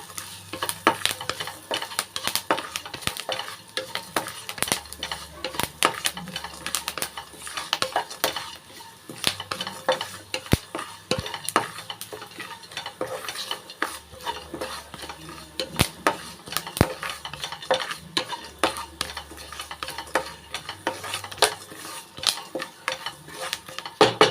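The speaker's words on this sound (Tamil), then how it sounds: "ஒரு கொத்து கருவேப்பிலை சேர்த்துக்கிறேன் நல்லா வ வறுத்துக்கலாம்" Cumin, whole coriander seeds and a sprig of curry leaves roast in a pan while a utensil stirs and scrapes them, with steady clinking and clattering of metal against the pan throughout.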